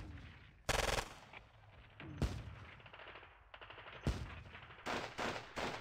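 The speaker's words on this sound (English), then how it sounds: "We could shoot at that, see what happens." Gunfire in the wargame Squad Battles Red Victory at Ponyri, aimed at a tank: several sharp, loud bursts of shots and machine-gun fire spaced irregularly, with quieter rumbling between them.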